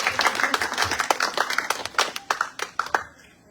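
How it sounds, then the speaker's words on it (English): Audience at a Peace Boat reception applauding a speaker welcomed on stage, a burst of brisk, fairly close hand claps that thins out into a few distinct claps before fading to quiet. "let's give Francois a big round of applause"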